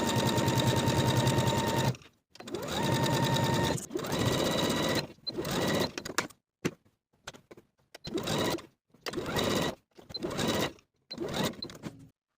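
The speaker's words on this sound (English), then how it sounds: "I'll baste from the side seam to the top of the center front, leaving tails of thread on both ends" Sewing machine running basting stitches on fabric for a V-neck boho top, fast rhythmic mechanical chatter in several separate runs with short pauses between them.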